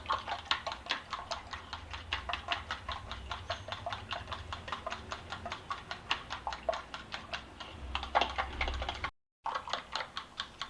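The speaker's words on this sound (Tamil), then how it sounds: "முட்டையை நல்லா மிக்ஸ் பண்ணி விட்டுக்கோங்க. நல்லா நொர பொங்குற அளவுக்கு நல்லா மிக்ஸ் பண்ணி விட்டுக்கோங்க." Eggs beaten in a bowl for a bread omelette, a quick, steady rhythm of light ticking whisk strokes close by, continuing for about ten seconds with a brief break near the end.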